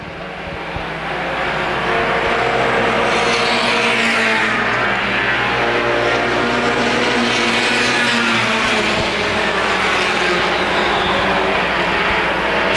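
Front-wheel-drive compact race cars in a 2010 CRA championship race at Winchester Speedway roar continuously and loudly, a dense pack of engines droning steadily with rising and falling pitch as cars sweep past.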